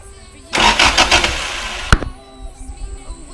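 A Toyota Corolla KE35 starter cranks the engine during wire harness repair work: a loud, rapid, chattering burst of about one and a half seconds that ends in a sharp click, then quieter background noise.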